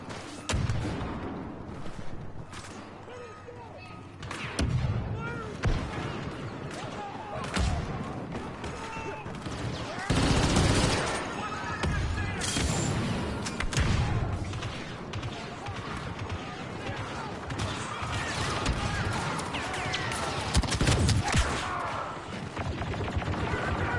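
Dense gunfire and grenade blasts in Star Wars Battlefront 2, a constant loud barrage of shots, bursts and crashes with someone talking over it throughout.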